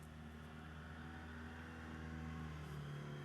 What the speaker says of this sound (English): I got a bit distracted because I could hear a lorry coming